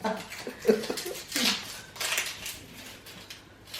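Water splashes and trickles as chicken feet are washed, with soft intermittent sloshing bursts at moderate distance and faint background voices.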